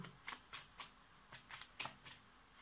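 Tarot and oracle cards are shuffled close to the microphone in a quiet room, giving about nine quick, crisp riffling bursts in an uneven rhythm.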